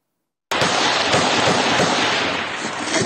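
Gunfire on a Ukraine war front line starts abruptly and continues as a dense, loud barrage of overlapping shots and cracks for the rest of the clip.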